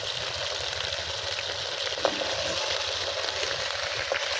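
Fish lightly coated in cornflour fries in hot oil, a steady close crackling sizzle with no talk, broken by a faint tap or two.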